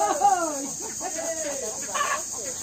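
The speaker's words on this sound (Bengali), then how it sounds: "ওই যে মুরগি আছে" Chickens kept at a relative's village home cluck in a steady run of short, close, fairly loud calls with a brief rise near the end, over a constant high background hiss.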